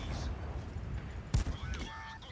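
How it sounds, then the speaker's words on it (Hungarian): A single sharp, loud tank gun shot bursts out in the online game World of Tanks, with fainter game sounds and a voice talking around it. "Második lövésem nem talált"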